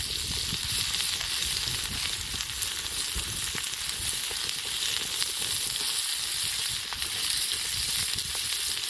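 Scaled fish fries in a pan with a constant, close sizzle and crackle. Faint scrapes and knocks come through as the pieces are turned over.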